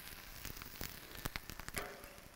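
Onions frying on a Camp Chef outdoor cooker give a faint, steady sizzle with scattered small pops and crackles. The sound is low and close, with no voices over it.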